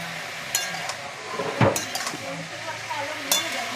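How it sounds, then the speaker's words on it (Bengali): Potatoes and cauliflower fry in a pan with a low, steady sizzle, broken by a few clinks and scrapes of a utensil stirring against the pan. "প্রতিদিন আর তরকারি খেতে ভালো লাগছে না, তাই আর কি আলু ফুলকপিটা একটু ভাজবো।"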